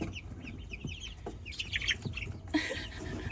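Young chicks of several different breeds peep and cluck in a pen, a scatter of soft high chirps and short clucks close by, with faint background rustle.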